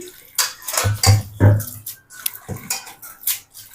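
Gongura leaves are washed in water in a metal vessel, giving splashing, sloshing and clattering bursts that come and go up close. A few clanks of the pot punctuate the rinsing. No one speaks.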